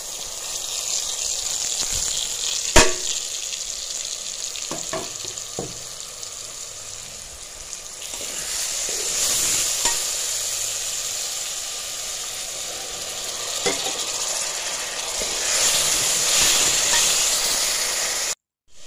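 Tomatoes fry in spice masala in a pan with a steady, loud sizzling hiss that runs throughout, broken by a few sharp knocks of a utensil against the pan. No one speaks.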